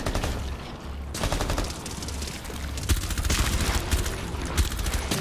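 Rapid gunfire in the co-op shooter game Rainbow Six Extraction: dense, overlapping bursts of automatic shots that rattle on for several seconds, loud and close, with no talk over them.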